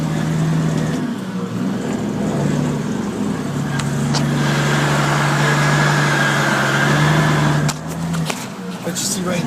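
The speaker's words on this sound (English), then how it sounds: "you can still hear me instead of just truck motor noise" An International salt truck's engine runs as a steady low drone through the whole stretch, loud and close, with a brief dip near the end and a voice talking over it.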